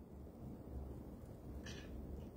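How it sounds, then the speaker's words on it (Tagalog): Heavy typhoon rain pours steadily with a deep low rumble of thunder underneath, a constant dense wash that holds throughout. "Ilang araw na pong malakas ang ulan eh."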